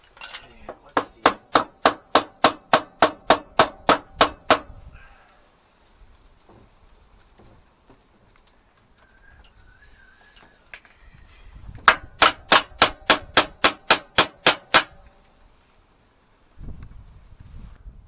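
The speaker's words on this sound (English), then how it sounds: "I've got an old wee hammer, I've got a rubber hammer as well, just in case." Sharp metallic hammer blows on the rear wheel spindle of a Suzuki 1200 Bandit motorbike, two bursts of about ten rapid, evenly spaced strikes each, loud and close, separated by quieter shop noise.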